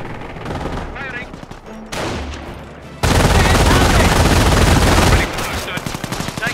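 Soldiers firing guns in Company of Heroes, a loud sustained barrage of rifle and machine-gun fire with shouted voices, swelling sharply to a roaring peak midway.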